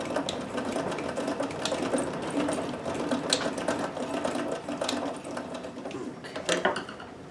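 A Necchi BU Nova sewing machine runs steadily while stitching with a double needle, giving a continuous close mechanical whir with fast rhythmic ticking and a slight surge near the end.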